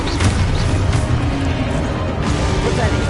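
A Confringo fire-blast spell goes off in a Harry Potter-style wizarding video game, a dense, loud, continuous wash of booming and crashing effects that fills the whole moment.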